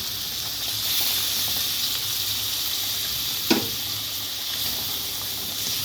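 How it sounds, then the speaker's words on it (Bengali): Fried spice paste for a milk paneer dish hisses with a steady, close sizzle, and one short sharp burst midway suggests a splash of water hitting the hot pan. No voices are heard. "ভাজা ভাজা হয়ে গেছে অল্প জল দেবো"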